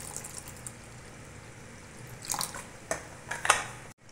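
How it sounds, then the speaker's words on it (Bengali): Water poured from a container into a blended raw mango paste, a soft trickle building into a few sharper splashes and drips near the end, close and fairly quiet, with no voices. "দিয়ে দিচ্ছি কিছুটা জল"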